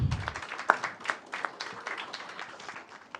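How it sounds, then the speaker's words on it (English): Audience applause at a book launch event for a law book edition, a steady patter of many hands clapping at moderate level for a few seconds. "This deserves a big round of applause."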